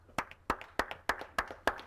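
Audience clapping at a comedy show: six sharp, evenly spaced claps in a steady rhythm, close and fairly loud, with no talk over them.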